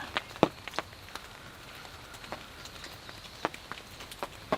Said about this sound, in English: in the rain